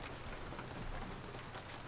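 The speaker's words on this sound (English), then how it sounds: "We have to wait until it stops raining anyway" Steady rain falls on a sailing boat with a leaking deck, a continuous soft hiss of drops on the surface at moderate distance, with no voices.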